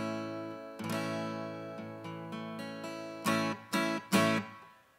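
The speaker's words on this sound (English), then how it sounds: "And it should sound like this." An open guitar chord strummed for a song with the thumb muting the sixth string, first a long ringing strum, then several lighter strokes and three sharp accented strums near the end, played alone.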